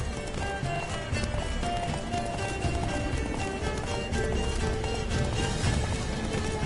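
A horse gallops in The Witcher 3, rapid rhythmic hoofbeats pounding continuously over a dense game soundscape, loud and close throughout.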